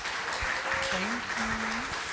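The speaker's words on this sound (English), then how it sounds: "Let's give them a round of applause, please" Conference audience clapping for a New Orleans band, a broad steady wash of applause with a faint tonal voice rising briefly above it.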